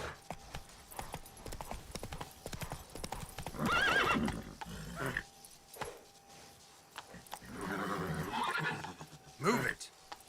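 In The Witcher 3, a horse's hooves pound in a fast, continuous gallop, broken by a loud whinny midway and another neigh near the end, with a rider's voice briefly heard over the hoofbeats.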